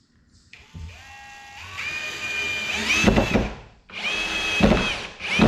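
A power drill whirring during a camper solar panel build, winding up to a high whine in a few bursts with short pauses between, close and fairly loud.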